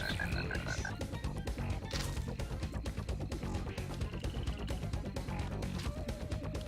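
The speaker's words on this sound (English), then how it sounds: "He spins out by hitting the frog." Frog croaks in the racing game 3D Ultra Radio Control Racers, heard as short repeated calls over a dense, loud mix of game music, engine noise and effects.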